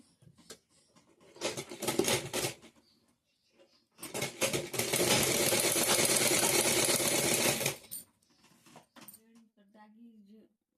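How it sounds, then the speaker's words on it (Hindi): A sewing machine stitches the shoulder seam of a simple cotton blouse in two bursts, a short run and then a longer steady run of rapid whirring, close by, with a voice talking quietly around the machine noise. "कंधा यहाँ मिलाते हुए आधा इंच पर सिलाई लगा देंगे"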